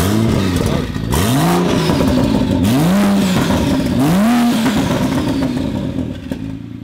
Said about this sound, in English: It sounds good with the exhaust.